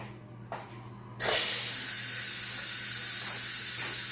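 An Instant Pot pressure cooker vents steam after a short quiet start, then a loud, steady hiss takes over and continues up close.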